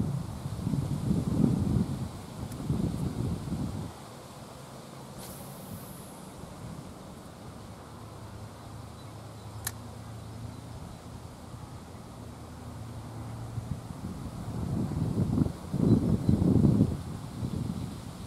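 Wind gusting outdoors by the water, rumbling against the microphone in strong bursts at the start and end with a calmer, quieter stretch between; no one speaks.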